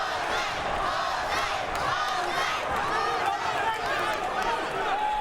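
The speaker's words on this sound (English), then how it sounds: "that's got this crowd going wild" Boxing arena crowd roaring after a jab knockdown, a dense, loud, continuous wall of cheering and shouting voices that holds steady throughout without a break.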